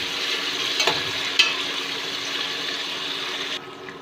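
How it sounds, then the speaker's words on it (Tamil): Sliced onions sautéing in hot oil for a North Indian chicken thari, a continuous close sizzle with a couple of sharp stirring clacks early on, fading abruptly near the end, no talking. "வெங்காயம் சேர்த்து நல்லா வதக்கிடலாம்."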